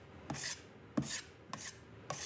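A putty knife scraping filler flat on a wall during a patio bedroom build, four evenly spaced rasping strokes, each a short gritty scrape, close and fairly quiet with no talking.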